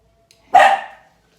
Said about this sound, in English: my dog is being a little barky this morning